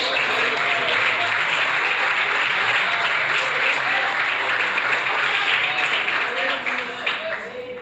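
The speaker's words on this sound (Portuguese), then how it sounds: "Quem vem, quem recebe, dá uma salva de palmas." A church congregation breaks into sustained, loud applause during a Portuguese-language sermon, dense clapping filling the whole stretch and tapering slightly at the end.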